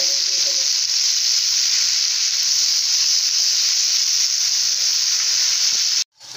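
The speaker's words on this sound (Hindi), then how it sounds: "हम इसमें टमाटर, मिर्ची डालेंगे और टमाटर डालेंगे और इसको गलने तक पकाएंगे अच्छी तरह से" Chicken with tomatoes and chillies sizzles in a pan for achar gosht, a loud steady frying hiss with faint stirring beneath that cuts off abruptly near the end.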